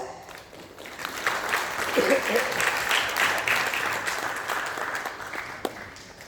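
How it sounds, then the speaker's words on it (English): Applause from a conference audience at the Indian Space Conclave, greeting a speaker coming on stage; a steady, moderately distant wash of clapping that swells and fades over a few seconds with no voices. "Please welcome Mr. Krishanu Acharya on stage with a big round of applause"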